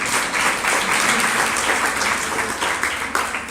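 Audience applause at a Hindi spiritual discourse, a steady, dense clapping from a crowd that stays loud and even for the whole stretch.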